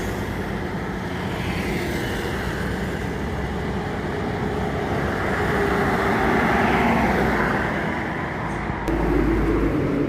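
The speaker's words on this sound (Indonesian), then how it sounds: "Truk troller panjang." A long trailer truck passes on a road, a steady loud rumbling roar of engine and tyres that swells in the middle and stays close throughout.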